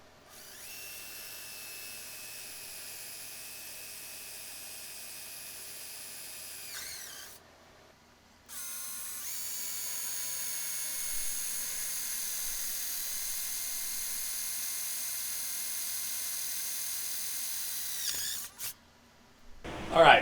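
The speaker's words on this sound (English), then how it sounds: "when I get all the pilot holes drilled" A power drill whirs steadily while boring pilot holes for lag bolts into a lever-arm GHD foot plate, running in two long sustained bursts with a short pause between them and no talking.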